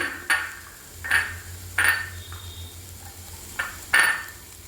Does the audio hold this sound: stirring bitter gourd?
yes